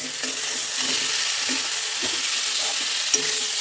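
Cauliflower greens, boiled potato, radish and cauliflower stalks frying with masala in oil for a Bengali bhaji, a steady close sizzle with soft stirring scrapes throughout.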